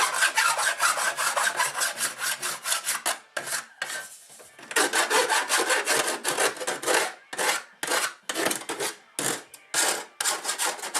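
A hand file rasps across metal in rhythmic back-and-forth strokes, close and fairly loud, with brief pauses between bursts of strokes.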